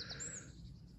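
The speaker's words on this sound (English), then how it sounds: "in the background you can hear the birds singing" Faint high chirps of birds sound far off in a quiet outdoor wild area beside a field, brief and thin against a soft low background hum.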